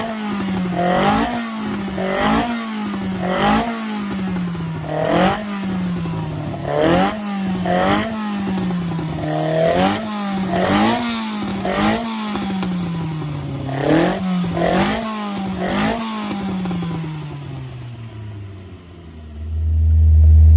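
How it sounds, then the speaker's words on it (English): A Hillman car engine with a misfire running on a dyno, a loud close rumbling drone with rhythmic revving swells every second or so, steady throughout before a deeper low roar rises at the end; no talking. "we're on a dyno now with Will's engine, and we're running it"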